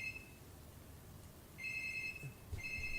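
A telephone rings indoors in a quiet room, with a steady electronic ring that sounds in two or three bursts separated by short pauses, fairly faint and with no one talking over it.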